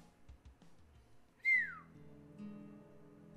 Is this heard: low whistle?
yes